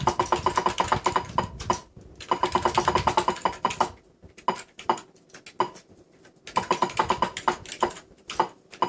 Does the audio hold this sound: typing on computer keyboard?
yes